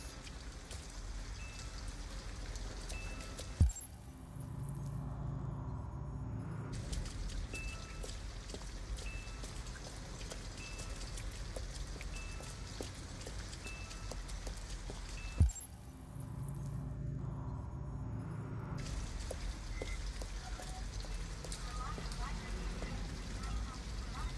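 Steady rain pours down in the Detroit: Become Human video game, a constant broadband hiss filling the scene, broken by two sharp thuds and brief hushed gaps, with voices faintly present beneath.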